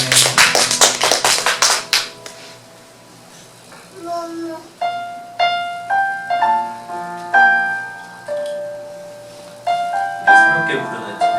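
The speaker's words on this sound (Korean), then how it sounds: "주님의 사랑을 박수로 영광 돌리겠습니다." A church congregation bursts into brief loud applause during Sunday worship, then the clapping gives way to soft piano or organ notes ringing out sparsely.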